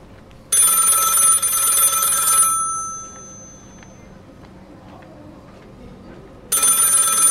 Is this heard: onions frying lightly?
no